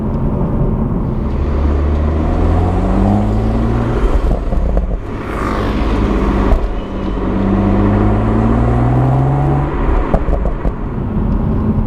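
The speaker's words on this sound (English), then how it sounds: "it's producing some lovely noises out the rear of the car" BMW M140i with a manual gearbox accelerating hard, its exhaust droning loudly and steadily with rising and falling engine tones as gears change, no talking over it.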